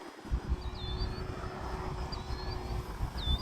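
An E-flite T-28 radio-controlled model airplane flies at under half throttle, a faint distant electric whine drifting over heavy wind and handling noise outdoors.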